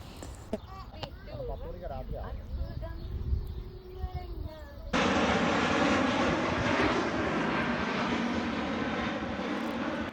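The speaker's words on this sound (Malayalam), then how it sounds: "ക്രൈസ്റ്റ് ചർച്ച് എയർപോർട്ട് ഇതിനടുത്തായിട്ടാണ് അതുകൊണ്ട് തന്നെ ഇവിടെ നിൽക്കുമ്പോൾ ഇഷ്ടംപോലെ ഫ്ലൈറ്റുകൾ അങ്ങോട്ടും ഇങ്ങോട്ടും ഇങ്ങനെ പാറി പാറി പറക്കുന്നത് നമുക്ക് കാണാം" An airplane flies near Christchurch Airport in New Zealand, a broad, loud engine roar that swells in suddenly about halfway through and holds steady, following a stretch of talking and light background sound.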